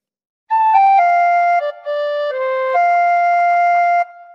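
A tin whistle plays a short, clear phrase of Auld Lang Syne, a few sustained notes stepping up and down, solo, close and bright, with no other sound.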